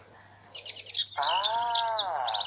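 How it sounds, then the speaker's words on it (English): Small birds chirp and trill in quick, bright bursts from inside a box, close and clear, with a fuller warbling song joining partway through and continuing to the end. "Can you hear birds singing too?"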